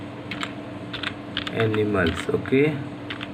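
Keystrokes on a computer keyboard tap out in short scattered bursts, with a voice speaking over part of the clip.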